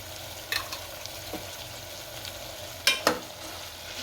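Quiet sizzling of khichdi masala with cumin, Kashmiri red chili, turmeric and salt in a pan, with a few soft spoon scrapes and clinks, two sharper knocks close together.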